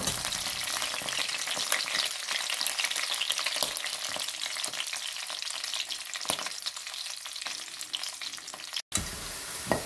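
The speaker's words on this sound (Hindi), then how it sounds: "ये हमने आलू डाल दिया, थोड़ी देर तक इसको हम ब्राउन करेंगे, ज़रा सा इसको चलाएंगे" Potatoes frying and browning in a pan as part of a vegetable korma, a steady close sizzle with occasional stirring scrapes and a brief cutout near the end.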